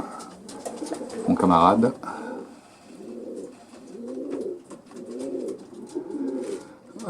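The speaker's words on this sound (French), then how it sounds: "Donc là on va aller voir les coulons." Racing pigeons in a loft near Coquelles, France, give a run of soft, repeated low coos in rolling bursts, close by, while someone speaks briefly over them.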